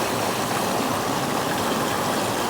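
Creek water rushes loudly and continuously close by, a dense, even roar of flowing stream with no breaks and no voices.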